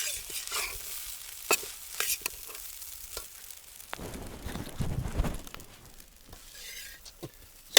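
A ladle scrapes and stirs fried rice in a village-style kadai pan, with repeated sharp clanks, sizzling, and a louder burst of frying partway through.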